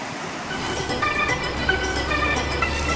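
A small river on Madeira flowing as hikers cross it, a steady broadband rush of water filling the scene at close range, with no voices.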